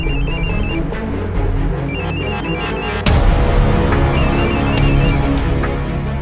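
A phone rings in a South Indian action film dubbed in Hindi, its electronic ringtone repeating in short bursts over a loud, busy music score.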